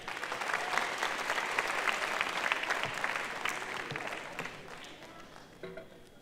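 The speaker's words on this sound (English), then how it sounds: "Another round of applause." An anniversary celebration audience breaks into loud, dense applause that holds steady, then thins out toward the end, with a few scattered claps and a faint voice as it dies down.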